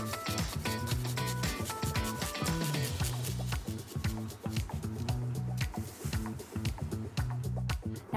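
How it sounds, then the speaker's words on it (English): Garlic is grated into a soy sauce beef marinade for crispy honey chilli beef, producing quick repeated rasping strokes against the grater, rhythmic and close. "just add some soy sauce and then grate in some garlic"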